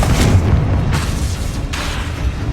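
Confringo spell explosions in the video game Hogwarts Legacy: a steady rumbling roar broken by three sharp, booming blasts, loud and close.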